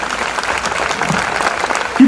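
An audience at a Hindi comedy poetry stage show claps in a dense, steady burst of applause, filling the short moment with crowd noise.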